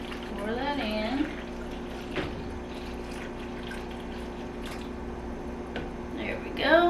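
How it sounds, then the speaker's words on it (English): About 1 3/4 cups of water poured into a ROVSUN portable clothes dryer, heard as a faint, steady trickle with light gurgling, quiet and close throughout. "I'm gonna go ahead and pour that in"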